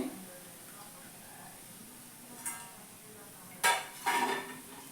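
Crispy fried corn pakoda clinks against a plate, a few sharp, brittle taps and rattles that grow louder near the end over quiet kitchen background.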